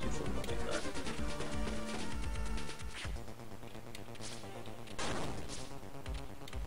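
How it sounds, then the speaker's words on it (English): Dynamite explosions in the E.T. video game for Game Boy Advance: a dense run of harsh, crackling blasts and crashes that fills the clip at steady loudness, swelling again near the end. "That dynamite doesn't have the explosion radius that you kind of expect it to."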